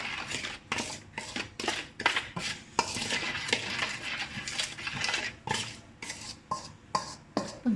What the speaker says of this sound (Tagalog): Haluin na natin mabuti.